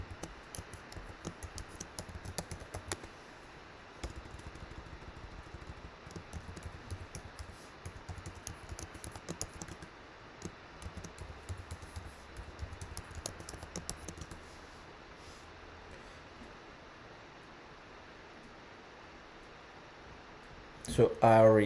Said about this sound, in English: Let's go ahead and type a password.